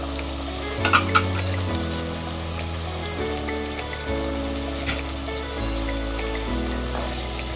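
Onion and garlic paste hits hot oil with frying pabda fish, giving a steady, dense sizzle with a few sharper crackles near the start, heard over soft background music.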